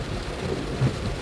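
Moderate rain drumming on a car while driving on a slick road, a steady low rumbling wash heard from inside, continuous and close with no talk.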